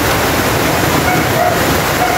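Steady rain falling outdoors on a rainy afternoon, a dense, continuous hiss that stays loud and even throughout with no break.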